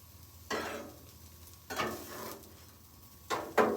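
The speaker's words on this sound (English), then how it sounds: "You hear it already sizzling." Food sizzles on a hot griddle in three bursts, each hiss flaring up as it is stirred, then settling to a quieter crackle.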